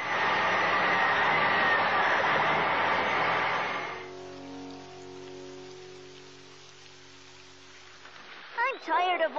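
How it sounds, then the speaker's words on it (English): Steady heavy rain pours down in a children's stop-motion cartoon scene, a loud dense hiss that fades partway through into softer ambience with music, and a voice speaks briefly near the end. "I'm tired of all this rain, Dizzy."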